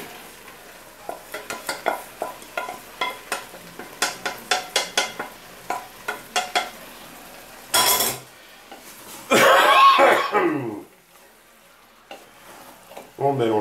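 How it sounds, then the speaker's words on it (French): Chili con carne with meat and tomato sauce being stirred in a pot: a run of close, rhythmic scraping strokes, then a louder burst of sizzling and clattering against the pan, with no talking. "On mélange bien le tout."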